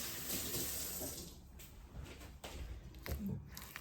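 Kitchen tap running steadily to wet a hand during stretch and folds of dough, a soft continuous water hiss with faint thumps and handling noises, moderately close.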